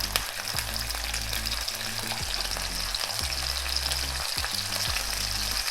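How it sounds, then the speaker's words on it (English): Smoky bacon and sausage fry in a pan with a loud, steady crackling sizzle, punctuated by a few sharper pops, with no one speaking. "while my bacon and sausage is just doing its thing on the pan"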